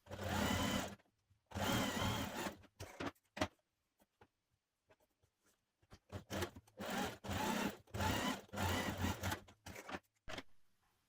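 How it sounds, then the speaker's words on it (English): A sewing machine stitches a pocket into a tie-front dress, Simplicity pattern 9101. It runs in several separate bursts of rapid stitching, some long and some short, with quiet pauses between them. "So stitch it in place first of all."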